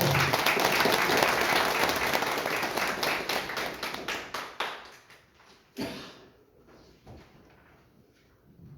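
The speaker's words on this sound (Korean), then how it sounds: "자, 참석하신 모든 분들을 위하여 다 같이 힘찬 박수를 보내주십시오." Audience applause at a parliamentary academic forum, a dense roomful of clapping that swells for several seconds, then thins into scattered last claps and fades.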